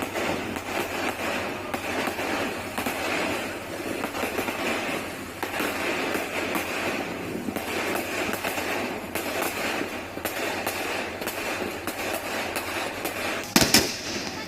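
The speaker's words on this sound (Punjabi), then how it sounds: "ਤਖਤ ਸ੍ਰੀ ਕੇਸਗੜ੍ਹ ਸਾਹਿਬ ਵਿਖੇ ਸੁੰਦਰ ਆਤਿਸ਼ਬਾਜ਼ੀ ਵੇਖਣ ਨੂੰ ਮਿਲੀ" Fireworks bursting over Takht Sri Kesgarh Sahib, a dense continuous stream of crackling pops and bangs heard from a distance, steady throughout with one sharper, louder burst near the end.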